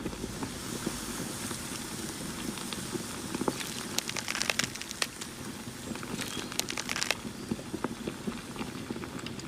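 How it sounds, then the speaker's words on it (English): Garlic sautéing in hot oil for a pork ribs dish, a steady close sizzle with scattered crackling pops and spits throughout, no talking. "Sauté garlic until fragrant."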